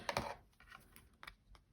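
Paper being trimmed for card making, a few quick sharp clicks and crisp cuts in an uneven rhythm, close and fairly quiet with no talking.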